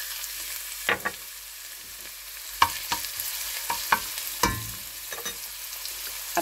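Garlic sautéing in hot cooking oil for a chicken empanada filling: a constant bright sizzle close by, punctuated by scattered sharp clicks and scrapes of a utensil against the pan, with no talking.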